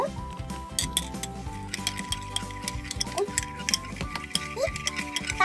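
A metal spoon stirs coffee in a cup in a home kitchen, clinking steadily against the sides in a quick, repeated tinkling rhythm, close by, with no talk over it.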